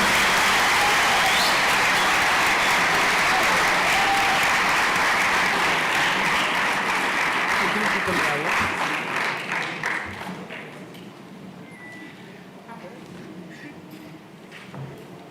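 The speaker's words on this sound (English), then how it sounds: "Round of applause for them." An audience at a national science and technology exhibition applauds award winners on stage with loud, dense clapping that thins and fades over the final seconds.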